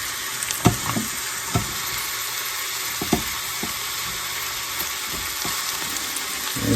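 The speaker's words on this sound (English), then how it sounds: "We're just gonna saute these in here before we pressure cook them." Pork ribs sauteing in an Instant Pot, a steady close sizzle and fry with a few sharp clicks and clatters of handling throughout, no talking.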